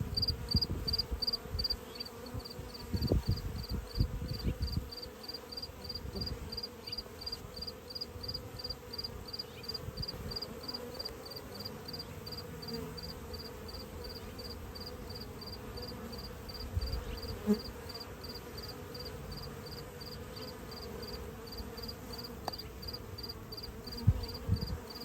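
Honeybees hum around a hive under mite treatment, a steady busy drone with occasional closer buzzes passing by, a constant high whine running through it, and no voices.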